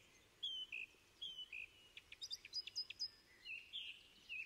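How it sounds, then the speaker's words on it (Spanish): Two song thrushes sing together in a quiet wood, their whistled notes and quick repeated phrases overlapping in a faint, distant chorus above low background hiss. "Pero si cantan dos zorzales"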